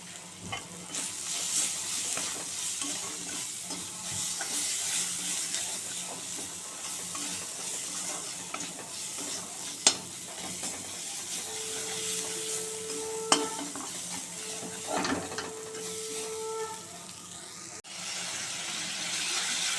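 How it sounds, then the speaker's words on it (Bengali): Spice masala with Kashmiri chilli powder being fried and stirred in a pan, with a steady low sizzle, occasional spatula scrapes and clinks, and a brief hum near the end, close and without talk. "আমার মশলাটা কষানো হয়ে গেছে"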